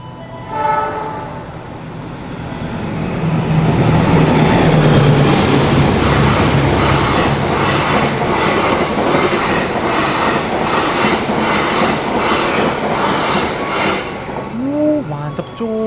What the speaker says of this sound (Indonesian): Persiapan melintas langsung kereta api Argo Lawu.